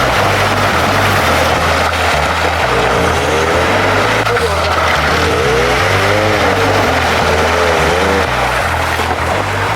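A light Suzuki Jimny breaks ice on a frozen race section during RFC-format races in Yakutsk, its engine roaring loud and close, steady and continuous, with the pitch rising and falling as it revs.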